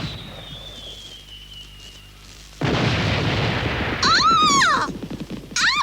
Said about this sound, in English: They're fireworks in your honor.